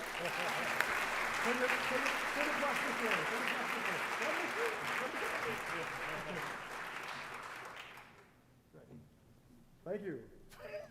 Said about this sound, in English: y'all gonna give a big other round of applause again just for the group photo